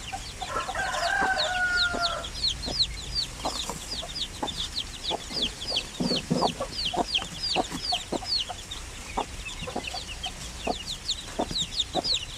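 Backyard flock of a mother hen and her chicks in the rainy season, with soft repeated clucks and dense high chick peeps, plus a rooster crowing briefly near the start.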